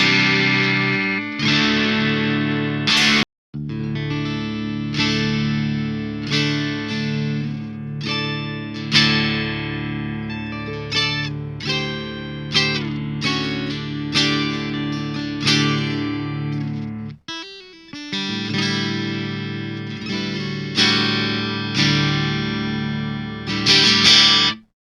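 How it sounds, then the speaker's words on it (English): A clean electric guitar with a piezo pickup plays through an Orange Dark Terror amplifier, a continuous run of strummed and picked chords with sustained ringing tones, close and without talking. "you're hearing that guitar with a piezo on"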